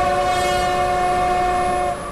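Steady tonal horn-like train sound from Railworks Train Simulator, a Czech railway setting with electric units, holding a sustained chord of stacked tones for about two seconds before easing slightly, loud and alone without speech.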